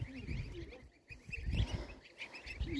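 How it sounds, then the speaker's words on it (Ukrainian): Goslings give soft, repeated chirps and peeps back and forth at close range, mixed with low rustling and handling noise, with no one speaking. "Чути, що гусенята такі вони щось розказують там друг другу."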